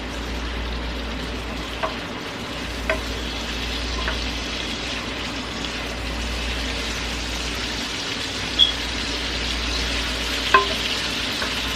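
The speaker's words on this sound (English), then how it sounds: "And stir that all together." A crab bake mixture with sesame oil stirred in a pan, a soft steady sizzle broken by several light scrapes and taps of the utensil against the pan.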